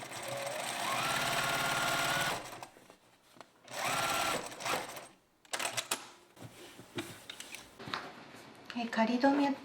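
A sewing machine bastes the neckline of a bow tie blouse, running in close bursts of rapid mechanical stitching separated by short pauses, with lighter handling clicks and taps between runs.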